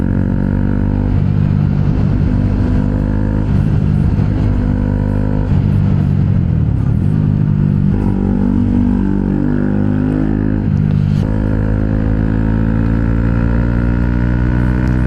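A motorcycle ridden along a road on the way to class, its engine loud and close in a continuous droning roar that rises and falls with shifting revs throughout.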